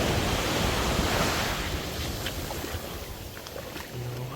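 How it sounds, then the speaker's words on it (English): Strong ocean waves wash onto a Barcelona beach in a broad, steady roar of surf, fairly close, with wind noise on the microphone and no voices. "these waves are strong."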